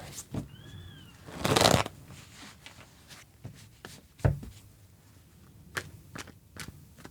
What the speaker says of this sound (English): I'm going to pull one more card for the 10 of Wands.